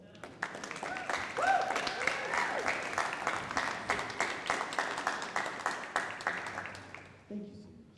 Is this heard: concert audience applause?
yes